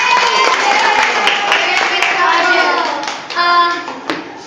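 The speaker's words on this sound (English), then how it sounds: "Okay, give me a applause." Steady applause from a roomful of people fills the whole stretch, fading somewhat near the end, with a few voices mixed in.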